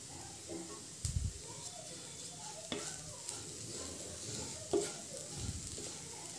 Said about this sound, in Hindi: चीनी डालकर भी हम इसे 2-3 मिनट चला लेंगे।